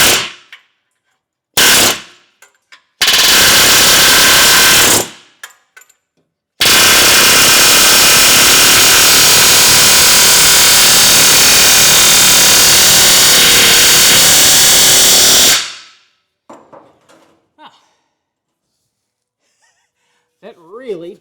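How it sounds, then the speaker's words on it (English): Pneumatic air hammer knocking a corroded bolt out during catalytic converter replacement on an 80 Series Land Cruiser, loud sustained rattling bursts, a short one then a long roughly nine-second run, followed by quiet. "I'm just gonna take an air hammer and blip it out of there real quick."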